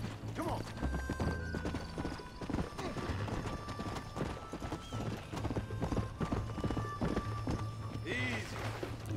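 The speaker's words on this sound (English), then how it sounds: "Ride the horse." Horse hooves clip-clop at a fast gallop in the Western video game Red Dead Redemption, steady rhythmic beats with a whinny, mixed under game dialogue and ambient sound.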